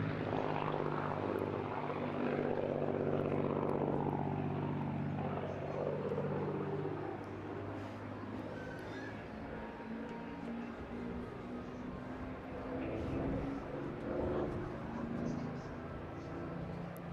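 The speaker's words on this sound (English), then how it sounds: "here, with a topside pass to bid you farewell, we salute the Spitfire" A Spitfire makes a topside pass at the Eastbourne Airshow, its propeller engine droning loud then easing as it moves away, while a commentator speaks over the fading aircraft.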